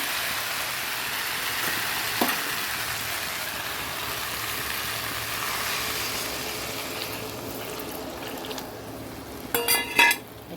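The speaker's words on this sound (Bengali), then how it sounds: "এবার জল দিয়ে দেবো" Water is poured into a pan of taro cooking on the stove, giving a steady, soft rushing hiss that slowly fades. A few light metallic clinks of a utensil follow near the end.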